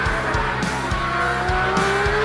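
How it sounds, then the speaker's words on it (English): Formula One race cars at speed, their engines screaming loudly and continuously up close, with a steady high-pitched whine and periodic pulsing as machines pass, no voices. "with these engines, with these nasty vibration periods, you've got to be just a little bit careful how much you do throttle back"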